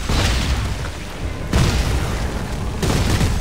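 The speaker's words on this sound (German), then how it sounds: "Ich schieß drauf." Heavy, booming video-game gunfire from shooting at an enemy in Dead Space 3, loud and continuous with dull thumping blasts and two sharp onsets.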